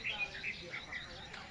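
Birds roosting at night in a narra tree give faint high chirps and tweets, a scattered flock calling in the distance over a steady hiss of background noise.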